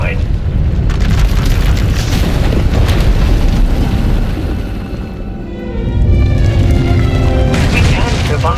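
A power erupts in a Star Wars: The Old Republic video game scene, a loud sustained booming explosion that rumbles heavily, dips briefly, then surges back with continued roaring blasts.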